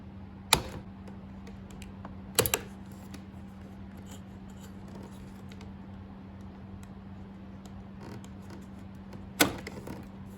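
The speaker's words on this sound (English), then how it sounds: "we have to cut off the old broken piece. So I'm just going to use a little razor blade here." A small razor blade cuts away an old broken plastic door panel piece on a 1994–1996 Chevy Caprice, giving three sharp snapping cuts over a steady low hum.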